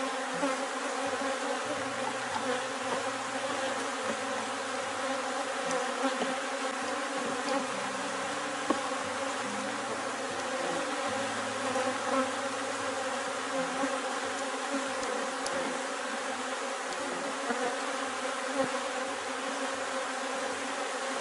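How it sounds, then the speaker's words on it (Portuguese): A honey bee swarm hums around an open hive, a dense continuous buzzing with wavering drones and passing individual bees, steady and fairly close throughout. "Então vamos organizar o enxame."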